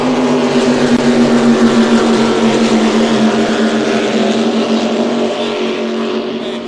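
An offshore racing superboat engine roars steadily and loudly throughout a race, a deep sustained drone with a slight rise in pitch, recorded close up from onboard.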